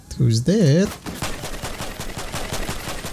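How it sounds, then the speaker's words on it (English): Rifle firing in Fortnite gameplay, a rapid string of gunshots running under the game's other sounds, after a short sung or voiced tone at the start. "I love this rifle, guys. This rifle's pretty good."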